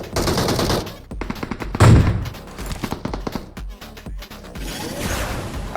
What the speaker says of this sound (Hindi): अब भाई ये पोरा गोली चला रहा है सामने वाले पोरों के ऊपर